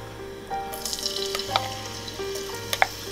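Garlic sizzling in about four tablespoons of cooking oil for Filipino fish sarciado, a close steady crackle with occasional sharp pops and scraping stirs from a utensil in the pan.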